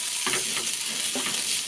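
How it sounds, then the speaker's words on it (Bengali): Paneer stuffing stirred with tomato sauce in a pan, giving two short scraping strokes over a steady faint sizzle, close and alone without talk. "টমেটো সসটা দিয়ে ভালোভাবে নাড়াচাড়া করে নিতে হবে।"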